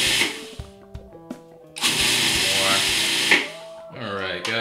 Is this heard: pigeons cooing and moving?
no